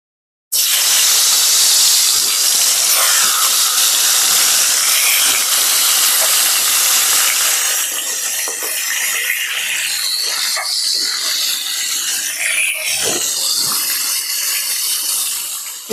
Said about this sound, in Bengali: তেল গরম হয়ে গেছে, এবার একে একে মাছগুলো দিয়ে দেবো।